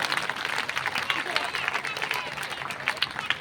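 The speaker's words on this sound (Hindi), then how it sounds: "पायनियर स्कूल के लिए जोरदार तालियां बजाओ" An audience at a school event applauds Pioneer School with a steady, crowded clapping that sounds moderately close, while a voice talks over it.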